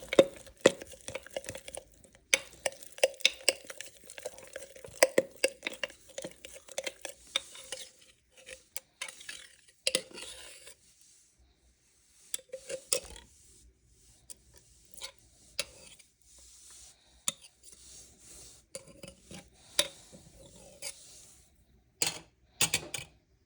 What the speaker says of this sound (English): Now I will use the same dinner knife to fully incorporate the flour into the mixture.